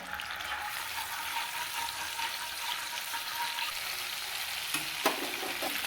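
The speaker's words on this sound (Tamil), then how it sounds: "எண்ணெய் சூடாயிடுச்சு பீட்ரூட் சேர்த்துக்கோங்க" Beetroot hisses in hot coconut oil in a pan for a hotel-style vegetable kurma: a loud, continuous, close sizzle with a brief utensil knock toward the end.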